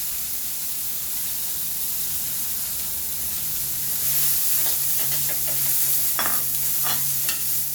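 Garlic stir-frying in a hot pan for Thai-style bean sprouts with egg, a steady close sizzle and hiss that swells midway, with scraping stirs of the spatula breaking through in short bursts.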